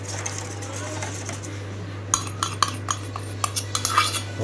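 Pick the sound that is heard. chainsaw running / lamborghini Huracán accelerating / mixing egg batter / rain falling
mixing egg batter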